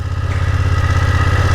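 A 2020 BMW F900XR motorcycle idles with a throaty exhaust, giving a loud, steady low-pitched rumble with a regular pulsing beat, heard alone and close.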